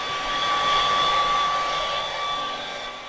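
A hair dryer blows steadily and loudly, a constant whooshing hum with a faint high whine throughout.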